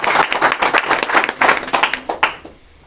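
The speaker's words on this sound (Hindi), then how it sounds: "इनके लिए एक बार जोरदार तालियों से स्वागत कीजिए" Audience at a motivational talk clapping loudly to welcome a guest, a brisk burst of close, distinct hand claps that tapers off into quiet at the end.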